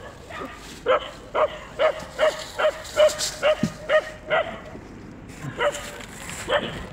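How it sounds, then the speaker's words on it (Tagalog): Dogs nearby bark in a rapid series of sharp, repeated barks with a few yips, about a dozen loud bursts in quick rhythm, set outdoors by a fishing spot with a faint background of ambient noise. "Mga aso dyan."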